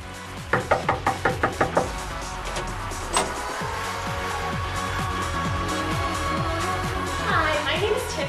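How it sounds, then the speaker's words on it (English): A quick series of about seven knocks on a door rings out close and crisp, followed by a thud and a lingering rumble of room noise. "Please knock and enter."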